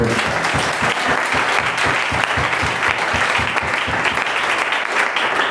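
A church congregation applauds, with steady rhythmic clapping from many hands filling the room, some people calling out beneath it.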